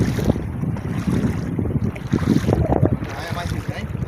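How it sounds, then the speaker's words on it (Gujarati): Strong wind buffets the microphone in rough, rumbling gusts, with faint voices partly buried beneath the roar. "પવન છે ઉડે છે બહુ"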